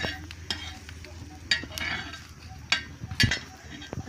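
Coriander seeds and chillies frying in a pan for a spicy gravy, with a continuous soft sizzle, scraping and stirring strokes, and a few sharp clinks of the spoon against the pan.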